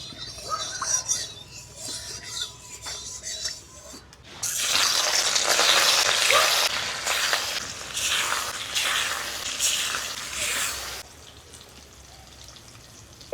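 Rohu fish frying in hot mustard oil in a kadai gives off a loud, close, hissing sizzle that bursts in suddenly, holds for several seconds, then settles to a quieter crackle.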